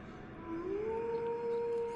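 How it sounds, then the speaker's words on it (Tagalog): A single drawn-out dog howl rises and holds steady, a faint lone tone over quiet background hiss. "Yung alulong na parang nakakita ng hindi dapat makita ng tao."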